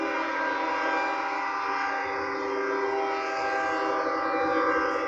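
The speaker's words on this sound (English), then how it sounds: "there's a train." A loud, steady train horn blares continuously as a train rolls past close by, its tone holding without a break.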